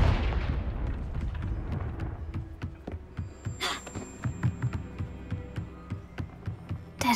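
A Confringo blasting spell from Hogwarts Legacy sets off a booming explosion, followed by a run of repeated sharp bangs and thuds at a steady rhythm, loud and close, with no speech.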